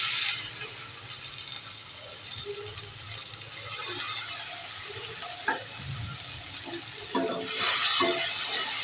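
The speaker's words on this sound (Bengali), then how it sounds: "এটাকে ভালো করে নেড়ে করে মশলাটা ভালো করে কষিয়ে নেব" Chopped green chili and tomato sizzle in a pan of fried onions for a tuna fish curry, with a steady hiss and occasional scraping stirs and clinks, louder toward the end.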